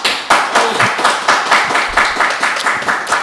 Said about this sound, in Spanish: Yo normalmente no pido un aplauso para arrancar, pero el maestro lo merece.